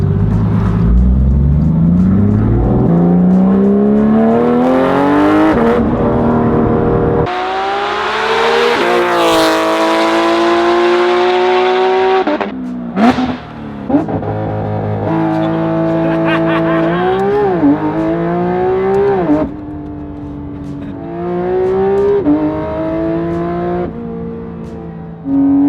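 A Porsche 911 GT3 RS engine, heard from inside the cabin, revs very loud up toward 9,000 RPM, climbing and falling in repeated sweeps with hard gear changes and a brief lift off the throttle midway, with no voices.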